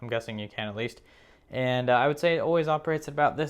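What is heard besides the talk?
No everyday noises stand out.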